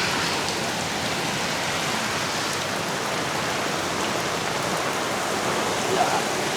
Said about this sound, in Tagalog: Ulan na pala.